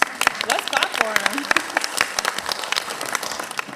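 Audience applause at a county commissioners board meeting: a dense burst of clapping fills the room, steady and fairly loud throughout, with some voices mixed in.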